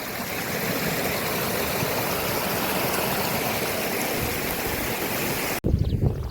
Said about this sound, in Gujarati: આ બાજુ કેવું મસ્ત પાણી વહ્યું આવે છે